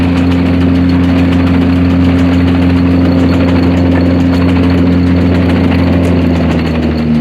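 A 1904 Orton 30-inch planer's drive runs by flat belt in a working mill, a loud, steady mechanical hum and drone with no change in pace and no voices.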